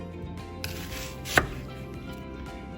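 A knife slices an onion into small rounds on a board, one crisp close cut standing out over a steady background hum, with no talking.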